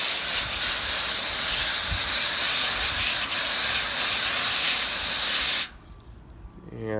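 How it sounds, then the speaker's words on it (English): A hose sprays water onto an air conditioner unit in a loud, continuous hiss for several seconds, then cuts off abruptly, leaving quiet background. "I just take it and I just spray it off."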